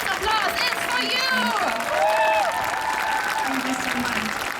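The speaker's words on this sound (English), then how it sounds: "And this applause is for you!" Applause from an audience at a peace concert for Ukraine rises and fades steadily over several seconds, with voices and tonal whistles or calls layered over the clapping.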